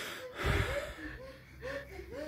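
A child takes a deep breath during a doctor's examination, a single audible inhale followed by a soft exhale, heard up close.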